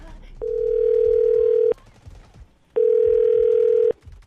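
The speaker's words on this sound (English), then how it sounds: "I'm going to dial the phone number to see if we get her on the phone." A telephone call being placed to reach someone, heard as two long, steady electronic ringing tones separated by a short gap, loud and clear over faint background noise.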